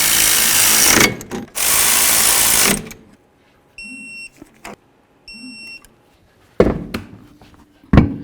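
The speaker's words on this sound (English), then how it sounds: "I'm going to hold the slider so it doesn't spin and snug it up." A power tool snugs the brake caliper slider bolts on a 1994-2004 Chevy S-10 in short loud whirring bursts, separated by pauses and a few faint electronic beeps, with sharp tool clicks near the end.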